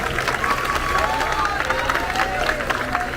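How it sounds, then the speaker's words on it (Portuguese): Applause and crowd noise at an Assembleia de Deus church celebration in São Miguel dos Campos, a steady wash of clapping and cheering that fills the whole stretch at moderate loudness, with murmuring voices mixed in. "Uma salva de palmas, irmãos, para a apresentação."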